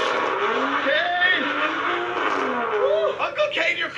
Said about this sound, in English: Cade's never done donuts in his car.